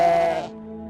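A single sheep bleats once, a short, wavering, fairly loud call that stops abruptly and leaves a low hum behind it.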